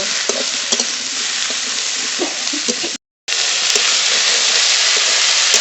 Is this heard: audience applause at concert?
no